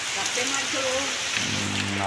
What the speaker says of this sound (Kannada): ಮಳೆ ಹೇಗೆ ಆಯಿತು ನೋಡಿ ಈಗ ತೋರಿಸ್ತಾ ಇದ್ದೀನಲ್ಲ ಚೆನ್ನಾಗಿ ಹೊಡೆದಿದೆ